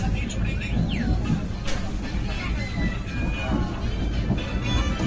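A passenger train slowing as it pulls into Fakiragram railway station, with a steady low rumble, wheel squeals and clatter on the rails. People talk in the background throughout.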